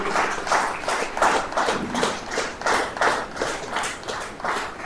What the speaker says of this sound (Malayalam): അച്ഛനെ നമുക്ക് കൈയടിച്ച് സ്വീകരിക്കാം